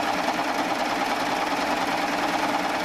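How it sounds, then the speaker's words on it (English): A Baby Lock Triumph serger stitches a decorative three-thread wave stitch along a pillow edge, a steady fast mechanical whirring hum that runs unbroken and close throughout. "I'm going to put a decorative 3-thread wave stitch on each edge"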